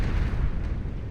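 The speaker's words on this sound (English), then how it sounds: "Its explosion killing a bunch of those Fiends as well." A Starlight unit explodes in the real-time strategy game Beyond All Reason, giving a sustained rumbling boom with crackling bursts that stays fairly loud and dense, set amid ongoing battle noise.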